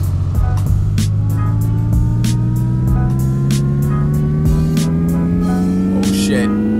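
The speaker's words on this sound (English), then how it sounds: "Oh, I'm just revving." A car engine in the Pixel Car Racer video game revs on a dyno, a steady synthetic drone slowly rising in pitch, with clicky game sounds and someone talking over it.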